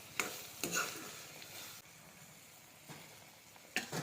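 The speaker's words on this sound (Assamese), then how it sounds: "এতিয়া তাতে ডিমখিনিও দি দিলোঁ আৰু অলপ সময় এনেদৰে উতলিবলৈ দিছোঁ" Eggs sizzle softly in a pan, a quiet steady fry punctuated by a few light clinks of a utensil.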